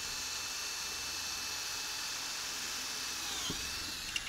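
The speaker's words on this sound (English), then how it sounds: "we can use that as a reference to drill holes the same distance from the edge" Milescraft DrillMatePRO guide steadying a drill boring dog holes into a workbench, a steady whining drone that runs unbroken close by and alone, with a couple of small knocks near the end.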